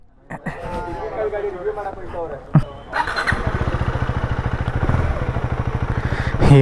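A motorcycle engine starts with a thump and settles into a steady, rhythmic idle and rev close by, with people talking over it at first.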